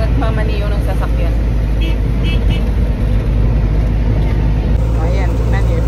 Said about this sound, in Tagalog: Si Pastor yung nagmamaniyo ng sasakyan.